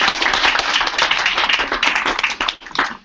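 An audience at a launch event in New York claps together, a dense, loud burst of applause that carries on steadily for a few seconds before tapering slightly near the end.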